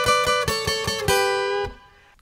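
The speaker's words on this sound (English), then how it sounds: "when I first learned this solo, I always played just the top part of it and I would use a pick so it would sound something like this" Guitar playing a solo with a pick, a quick run of bright picked notes ending on a sustained ringing note that fades out.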